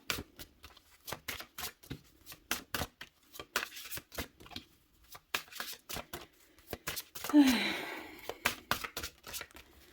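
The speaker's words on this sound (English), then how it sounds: "I feel like I'm gonna have to fast forward this shuffling." A deck of affirmation cards is shuffled by hand, producing a steady run of close, soft riffling snaps and papery slides for about ten seconds with no talking.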